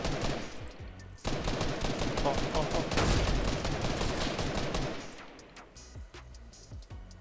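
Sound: sniper rifle gunfire in the video game Fortnite

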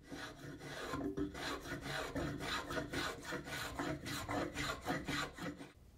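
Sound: spokeshave shaping wood

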